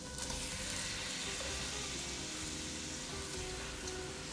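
Chicken pieces fry in a masala for chicken gravy, a faint but steady sizzle with soft crackle throughout, no voices.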